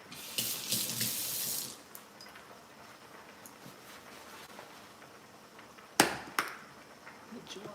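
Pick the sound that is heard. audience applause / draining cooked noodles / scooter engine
draining cooked noodles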